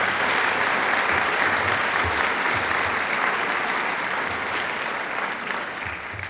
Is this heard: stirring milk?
no